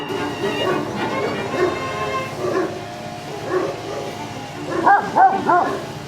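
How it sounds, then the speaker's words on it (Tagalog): A dog barks several times at moderate distance, a few spaced woofs followed by a quicker cluster of higher yips near the end. "si bulldozer tumatahol ah"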